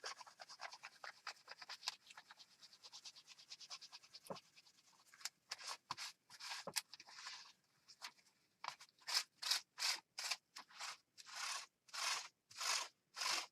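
A paper towel wipes wet paint off a craft stencil in a series of close, rhythmic rubbing and scraping strokes, scattered at first, then steady and regular, with no voices.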